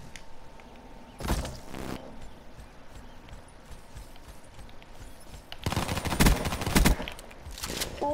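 Pistol shots in Call of Duty: Black Ops III, a loud burst of cracks followed after a pause by a denser cluster of several sharp shots, with game ambience between.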